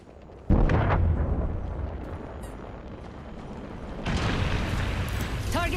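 A Lifeline care package drops in Apex Legends with a sudden heavy boom. A rumbling hiss follows, then a second loud burst near the end.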